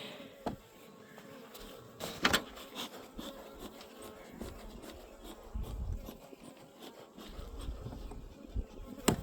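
Honeybees buzz steadily around an open hive during a brood box inspection, a dense close hum with sharper passes as individual bees fly near, plus occasional knocks and rustles from handling frames.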